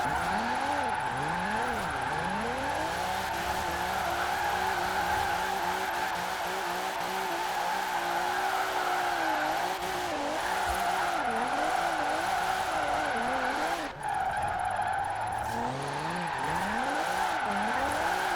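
A retro Alfa Romeo slides through corners in Forza Horizon 4, its engine droning steadily while tires squeal and wobble in repeated skids, loud and continuous with no talking.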